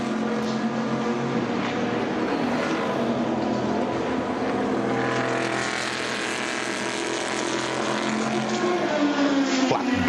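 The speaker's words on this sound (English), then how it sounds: "Flat beat of these big Corvettes." Big Corvette race cars at Le Mans pass close with a flat, loud engine beat, one car's pitch sweeping as it goes by. Steady crowd and track noise fills the background.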